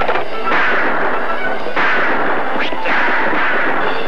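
Gunfire in a western TV drama, several sharp shots and thuds ringing out over a loud, dense background of action noise, close and continuous throughout.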